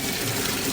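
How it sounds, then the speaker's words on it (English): Water pours steadily into the tub of an old Kenmore Elite top-load washer, a constant close rushing gush with no talking. "I can fill it up with some water and we'll see where the water comes from"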